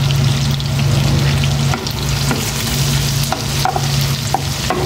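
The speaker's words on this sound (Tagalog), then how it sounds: "Ipa-brown ko lang itong bawang." Garlic sizzling and frying in a pan, a steady loud crackle with a low hum underneath and occasional stirring scrapes, no voices.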